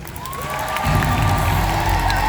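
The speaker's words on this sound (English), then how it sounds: "Let's give another round of applause for Independent Senior National Sales Director" An audience at a 2019 Mary Kay sales seminar cheers and applauds in a large hall, a loud continuous roar of clapping and whoops that swells partway through.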